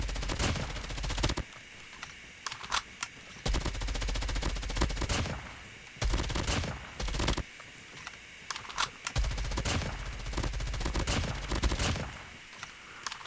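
Rapid automatic gunfire from a weapon in COD Mobile, several sustained bursts separated by short pauses, loud and close with no talk.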